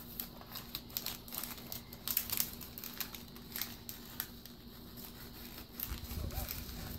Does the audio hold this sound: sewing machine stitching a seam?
no